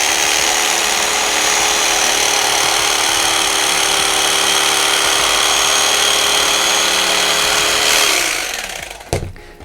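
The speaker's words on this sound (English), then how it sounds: "I usually cut the foam out with one of these carving knives." A carving knife of the ham or bread kind slicing through a scrap piece of foam, a steady loud close rasping hiss that runs on continuously before tapering off at the end.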